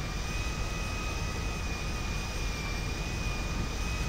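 An airplane engine in GTA V, a steady loud jet roar with a thin high whine running unbroken throughout.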